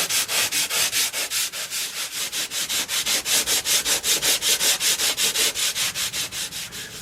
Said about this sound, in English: we're just going to sand it down till it's nice and smooth